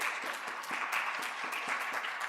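A steady burst of audience applause at a national schools debating championship grand final, dense and even, heard alone at moderate level.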